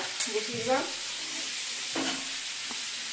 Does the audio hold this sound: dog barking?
no